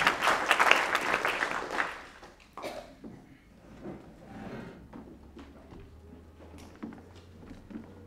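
Applause from an audience at a labor union and police accountability event, loud and dense at first, then thinning out into scattered clapping and room noise.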